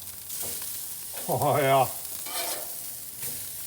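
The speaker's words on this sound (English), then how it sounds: "that's a seared steak right there" Steak searing on a Masterbuilt gravity charcoal grill, a steady sizzling hiss heard under a short spoken exclamation.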